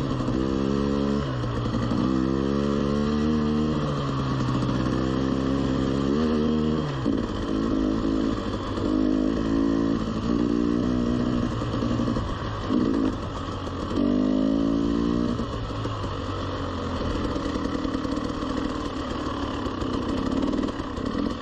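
An off-road vehicle engine drives along a trail with puddles, revving and easing in uneven surges before settling to a steadier rumble, loud and close, with no talking.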